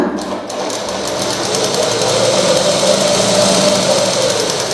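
A sewing machine runs continuously and loudly up close, stitching a pressure-foot-width seam along a fabric edge with white thread in a beginner tailoring lesson, a steady mechanical hum with faint rhythmic knocking.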